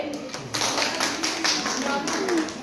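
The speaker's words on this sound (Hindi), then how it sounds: "अब ये बच्चा बहुत अच्छा पढ़ा ना, इसके लिए ताली बजाएंगे।" Children in a classroom clap together for a classmate, a quick ragged round of close claps mixed with voices talking in the room.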